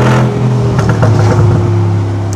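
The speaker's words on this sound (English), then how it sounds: "when I let off and downshift, there's a lot more crackle and pops" A tuned Mercedes G63 AMG rumbles loudly up close with a steady, deep exhaust drone. Brief rough crackling bursts sound near the middle as the engine revs.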